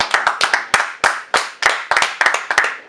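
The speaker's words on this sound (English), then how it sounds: "Let's go ahead and clap it up." A few people clap in a studio, sharp irregular claps in quick bursts, close and loud with no other sound.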